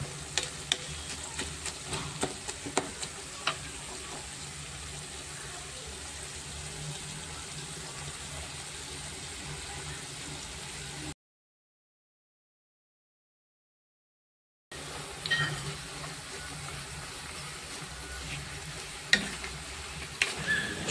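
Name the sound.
ingredients cooking on low to medium flame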